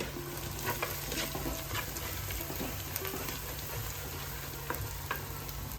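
Masala for a fish curry being stirred in a pan, a steady soft sizzle with scattered scraping clicks of the spoon, close and continuous with no talking.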